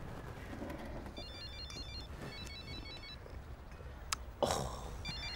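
Telephone ringing in repeated electronic bursts inside a home, moderately loud over a quiet room, followed by a sharp clatter near the end.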